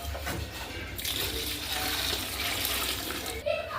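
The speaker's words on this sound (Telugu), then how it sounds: "ఆరు లీటర్ల నీళ్ళు పోసుకున్నాము" Six litres of water pour steadily into a large cooking pot on a wood fire for rice, with a continuous rushing splash, stopping near the end.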